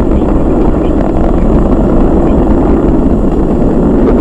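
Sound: SpaceX Falcon 9 rocket engines roaring during crew launch

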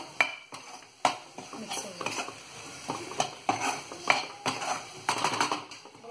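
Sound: stirring a masala mixture in a cooking pan

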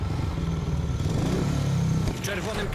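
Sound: speedway motorcycle engine in video game

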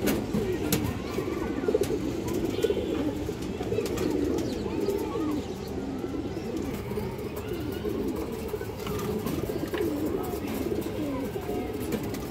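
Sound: pigeons cooing

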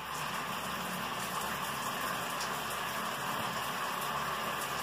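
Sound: shower water running, opened wider

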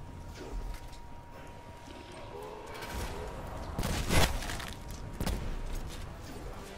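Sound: gunfire in Black Ops 4 Zombies video game

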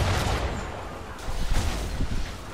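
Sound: chain shot cannon fire from a ship, video game Assassin's Creed III

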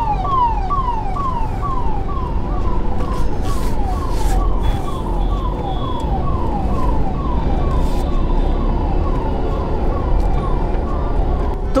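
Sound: ambulance siren passing in traffic

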